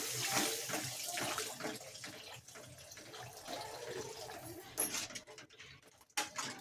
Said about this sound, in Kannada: ಒಂದು ಅರ್ಧ ಲೀಟ್ರಷ್ಟು ನೀರನ್ನ ಸೇರಿಸ್ಕೊಳ್ಳಿ